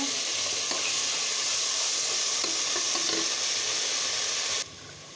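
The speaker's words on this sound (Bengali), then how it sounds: "এই যে আমি পেস্টগুলো দিয়ে দিচ্ছি মশলা।" Ground spices and spice paste sizzle and fry loudly in a hot pan for several seconds with occasional stirring scrapes, the dense sizzle dropping off sharply at the very end.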